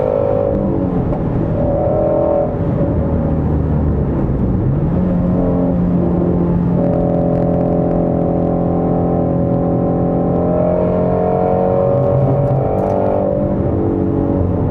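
A 2017 Ford Shelby Mustang GT350R driving and accelerating, its engine droning loudly and steadily from inside the car, with rising revs and a shift partway through.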